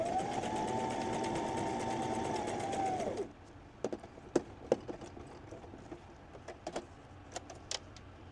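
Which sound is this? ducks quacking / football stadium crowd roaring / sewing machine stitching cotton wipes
sewing machine stitching cotton wipes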